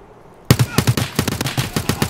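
Gunfire in the video game Escape From Tarkov breaks out after a quiet moment as loud, close bursts of rapid automatic shots with a few short gaps between them.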